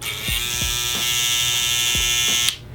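Electric hair clippers run in a steady, close buzzing drone throughout, with a few faint taps, cutting off abruptly near the end.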